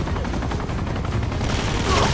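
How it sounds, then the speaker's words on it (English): A grenade launcher firing in the video game Uncharted 2: Among Thieves, dense booming blasts and gunfire filling a short, loud stretch of combat. "Grenade launcher."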